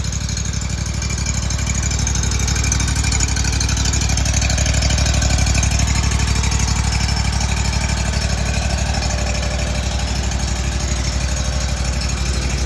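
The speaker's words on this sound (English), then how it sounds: "Beautiful, beautiful mower." A lawn mower engine idles steadily right after start-up, a close, loud, even mechanical chugging with a constant rapid pulse and no interruptions.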